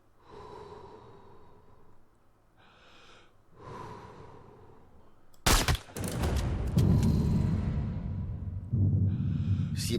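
In the video game Sniper Ghost Warrior 3, quiet breathing gives way to a loud, sharp sniper rifle shot midway, followed by a sustained rumbling tail.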